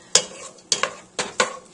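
Four sharp clacks of a utensil knock against a pan as vegetables for an oil-free vegetable hash are stirred, close and spaced unevenly over a faint dry background, with no talk.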